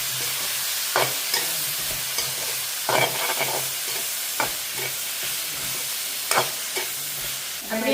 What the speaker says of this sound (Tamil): அப்படியே பார்த்தீங்கன்னா லீக்ஸும் நல்ல வடிவா வதங்குது